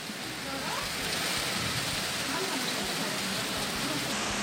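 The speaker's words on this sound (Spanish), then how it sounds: "¡Mi madre, fuerte pedazo de lluvia!" Heavy rain pours down in the Canary Islands as a dense, continuous hiss and roar that stays loud and even throughout, with no voices over it.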